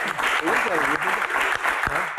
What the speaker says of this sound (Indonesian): Tepuk tangan untuk Kang Sule.